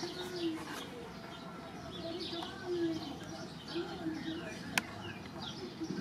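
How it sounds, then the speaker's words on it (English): Small birds chirp and tweet in repeated short bursts outdoors near Naples, soft and at a modest distance, with faint cooing and low ambient noise underneath. "Birds are tweeting away."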